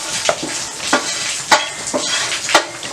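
Vinegar poured into a hot cooking pot while making boucané péi, giving a steady loud sizzle with repeated bursts of stirring and scraping, no talking.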